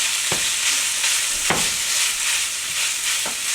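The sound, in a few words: minced meat frying in a pan, stirred with a fork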